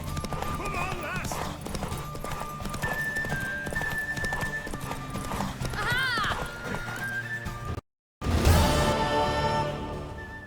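Galloping horse hooves in The Witcher 3 video game, a rapid clip-clop rhythm with a neigh, under game music and voiced dialogue, cutting briefly to silence before resuming louder.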